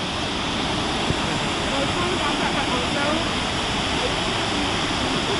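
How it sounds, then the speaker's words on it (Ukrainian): The waterfall in Johnston Canyon roars as a loud, steady wash of rushing water, heard from a higher vantage point and filling the whole span without letup. "Тут той самий водоспад, але з іншого ракурсу."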